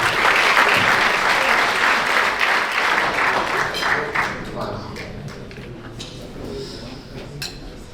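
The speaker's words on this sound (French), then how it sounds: "un tonnerre d'applaudissements pour Mamadou Sakho," A crowd applauds loudly to welcome the footballer Mamadou Sakho onstage, a dense wash of clapping that gradually thins and fades over several seconds into scattered claps.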